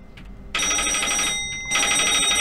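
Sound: telephone ringing in Office Paradox video game

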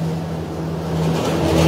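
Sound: cold storage refrigeration units running

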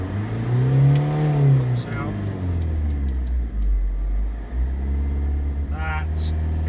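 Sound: car engine revving to 2,500 rpm

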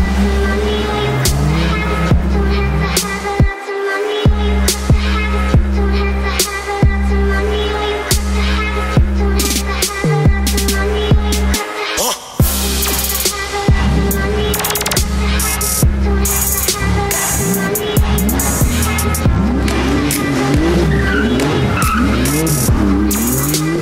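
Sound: Bentley Continental GT W12 engine

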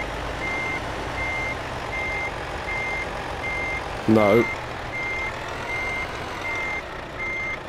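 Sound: Volvo truck reversing beeps in video game Euro Truck Simulator 2

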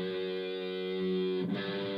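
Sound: electric guitar with heavy distortion playing a song intro

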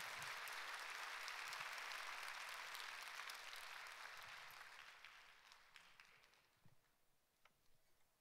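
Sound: congregation applauding to welcome the pastor

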